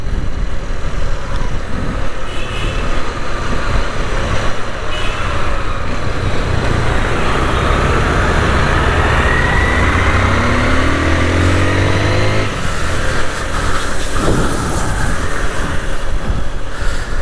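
Dense rush-hour traffic in Saigon heard from a moving motorcycle, a continuous loud roar of many motorbike engines, cars and trucks all around with shifting revving tones and horn-like bursts, no talking.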